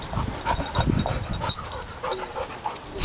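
Dog panting in quick rhythmic breaths close by, with faint whimpers mixed in, steady and moderately loud with no talk.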